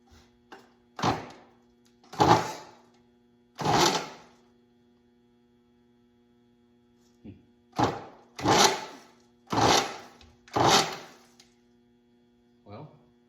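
A WWII Jeep engine turns over on a newly installed starter in a series of short, loud cranking bursts separated by pauses, with a steady electrical hum underneath.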